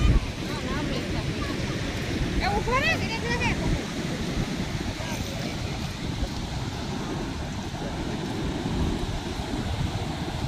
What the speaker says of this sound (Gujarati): આ દરિયાની મોજ છે